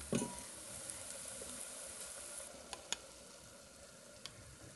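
Mutton curry with garam masala gets stirred in a pan, a faint, low sizzle running throughout with a few soft ticks of the spoon against the pot.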